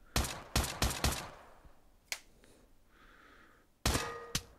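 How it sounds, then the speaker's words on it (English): Virtual gunfire at targets in the Pavlov VR shooter game on Oculus Quest: four quick sharp shots in a burst, then a lone shot, then a final pair of cracks, with some clicking handling sounds between. "Shoot all the targets to continue."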